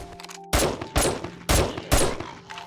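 Four heavy, evenly spaced gunshots from a gun in 7 Days To Die, each a loud close boom with a short decaying tail, over a faint steady hum.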